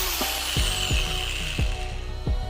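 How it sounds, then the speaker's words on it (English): Power drill boring a hole in a Traxxas X-Maxx RC tire, a steady whirring motor with several sharp bursts as the bit bites, close and fairly loud. "I try not to hit it with my actual drill"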